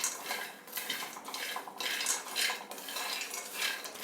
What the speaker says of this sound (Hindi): अब हम इस मूंगफली को इसके अंदर डालेंगे और इसे लो और मीडियम फ्लेम पर भूनेंगे और बीच बीच में लगातार चलाते रहेंगे।